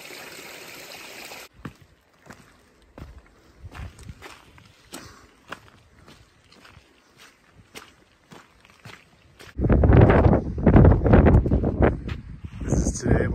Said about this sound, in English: We got a nice little stream flowing through it.